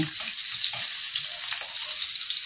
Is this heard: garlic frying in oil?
yes